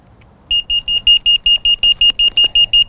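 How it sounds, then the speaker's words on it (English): A vehicle parking sensor warning alarm beeps in a steady, fast series of sharp, high-pitched tones, loud and close after a brief quiet start. "it's flashing zeros and making an alarm."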